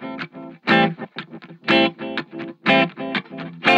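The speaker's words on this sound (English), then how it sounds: "The echoplex." Electric guitar played through an Echoplex tape echo unit, distorted chord strums in a choppy rhythm with repeating echoes trailing each hit, close and loud with no voice.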